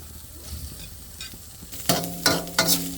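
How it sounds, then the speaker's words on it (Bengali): Grated coconut fries in ghee in a pan for date sweets: a quiet stretch of soft stirring, then three loud sizzling scrapes near the end as the spoon turns the mixture. "নারিকেলটা আমি ঘিয়ের মধ্যে ভাজা ভাজা করে নিচ্ছি।"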